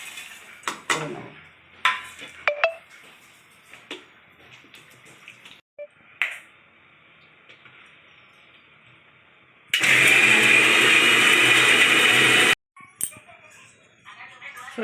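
Mixer grinder whirring loudly for about three seconds as it grinds garlic, ginger, coriander, nuts and whole spices, set between scattered kitchen clinks and handling noises.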